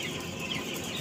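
Chickens on an Indonesian farm in Donomulyo, South Malang clucking after heavy rain, a brief soft murmur of the flock heard close over a steady background hiss.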